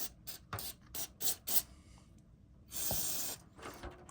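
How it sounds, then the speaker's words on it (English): Several short hissing bursts of aerosol cleaner sprayed into a Smith & Wesson Shield Plus pistol, close by, with a longer sustained spray near the end. "So now I'm just going to spray in here."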